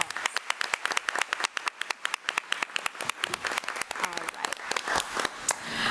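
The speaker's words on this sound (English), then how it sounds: "So let's give Bristol a round of applause." Audience at a school board meeting applauding a student, a steady patter of many hands clapping close by that thins out toward the end while people start talking.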